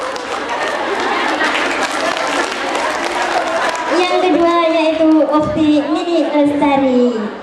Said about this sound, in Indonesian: Tepuk tangannya mana, Mbak?